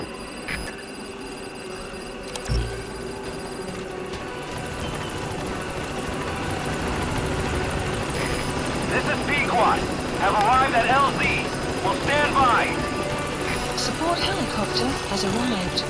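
Support helicopter arriving at the landing zone in Metal Gear Solid V, its rotor drone building steadily in the background beneath radio chatter and game effects.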